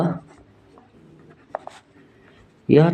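Marker or chalk strokes on a classroom board while a geometry lesson is written out: a few brief scratchy strokes in the middle of a quiet stretch, with a teacher's voice talking at the start and end.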